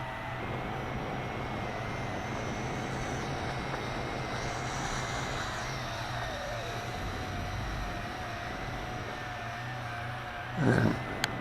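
A WLToys Q212G altitude-hold FPV drone flies overhead with a steady, buzzing propeller whine whose pitch drifts slightly as it moves. The whine stays moderately loud throughout and ends with a short thump.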